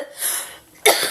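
A person coughs twice at close range, a rough raspy cough followed by a sharper second burst after a brief pause.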